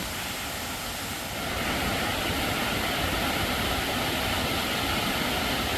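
Huai Mae Khamin waterfall in Kanchanaburi's forest, at its third tier called Wang Na Pha, gives off a steady, dense broadband roar of rushing water that swells slightly and then stays constant, with no voices.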